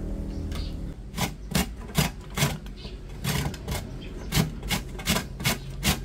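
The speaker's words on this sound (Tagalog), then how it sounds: "Ngayon naman po ay yari-yari na po ni Seth itong kalabasa" Squash (kalabasa) is grated by hand for vegetable fritters in a home kitchen. Rhythmic rasping strokes repeat steadily at close range, about two per second.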